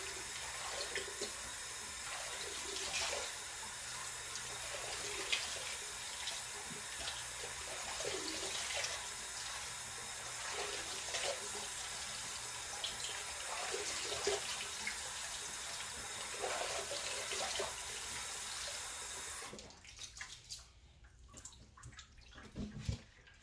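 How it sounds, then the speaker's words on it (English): Hot water runs steadily from a tap, kept as hot as can be stood, while a head is being shaved; the broad rushing flow continues evenly, then cuts off near the end, leaving faint handling noises. "I like to use this hot water and keep it as hot as you can stand it"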